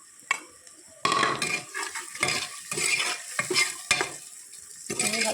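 Dried meat is fried in a pan with spatula stirring: scraping and clattering strokes come in irregular bursts over a bed of sizzle, close and fairly loud, with no voices.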